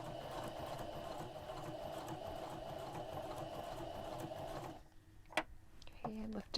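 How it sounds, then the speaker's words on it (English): A sewing machine running steadily with a Teflon presser foot, edge stitching along the corner of a custom fabric heater cover, a continuous close mechanical whir that stops near the end, followed by a few clicks and short tones. "So I just want to do an edge stitch all along this corner here."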